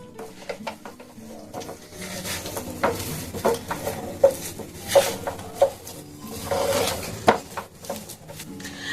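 A spoon mixes mango sandesh mixture in a dish, giving irregular clinks, taps and scrapes close by, with birds chirping faintly in the background.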